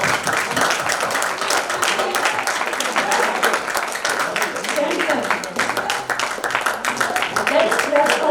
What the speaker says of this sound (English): Let's clap for both of them.